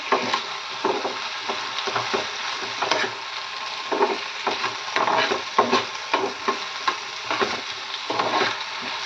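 A spoon stirs salted brinjal and tomato in a pan, giving steady, repeated scraping strokes over a soft sizzle that continues throughout.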